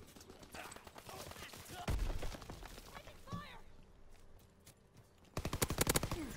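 Rapid automatic gunfire from a WW2 video game with a PPSh-style submachine gun, bursts of sharp repeated shots, loudest in a rattling volley near the end, with a player talking over the shooting.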